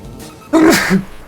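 A single sharp sneeze, close and loud, preceded by a brief quiet intake of breath.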